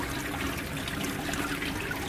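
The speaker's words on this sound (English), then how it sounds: "So it's letting water run all the way down at the moment. But it's only a dribble" Water dribbles down through the outlet holes of an aquaponics solids filter, a steady, close trickling and splashing wash that continues without pause and without voices.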